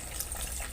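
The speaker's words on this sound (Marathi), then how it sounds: "पाणी टाकलं आता त्यांनी चिकन मध्ये" Water gushes briefly into country chicken curry simmering in masala over a wood-fired chulha, a soft, steady splash lasting under a second.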